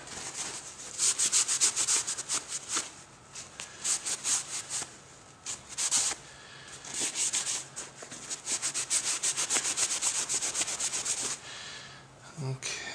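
Residue is rubbed off a clay-coated steel blade being prepared for heat treatment, a close, rhythmic scrubbing in fast back-and-forth bursts separated by short pauses.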